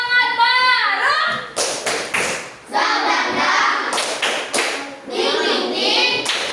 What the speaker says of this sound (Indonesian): Tepuk semangat bareng.